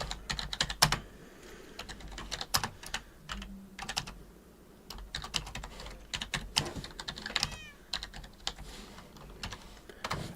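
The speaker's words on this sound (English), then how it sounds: "some of the typing might take a long time" Computer keyboard typing during a Minecraft live stream, with irregular bursts of sharp close key clicks and brief pauses between runs, no talking.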